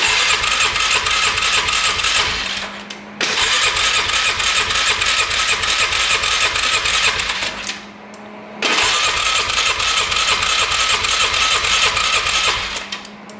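An ATV that won't start is cranked three times: each long, loud, rapid churning burst lasts several seconds and stops abruptly with short pauses between, and the engine never catches.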